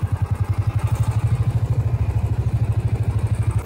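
Motorcycle riding on a forest road near a dam, its mid-pitched engine pulsing in a steady rapid rhythm, close and loud throughout with a faint clatter.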